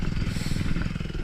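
A four-stroke dirt bike engine runs close by with a rough, clattering idle, a steady pulsing rumble on a woodland race course.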